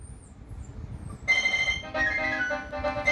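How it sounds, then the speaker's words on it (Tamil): Mobile phone ringtone chiming a bright repeating melodic pattern, starting after a quiet stretch of low room noise and continuing in short looping phrases, moderately loud and close. "அம்மாச்சி ஃபோன் அடிக்குது."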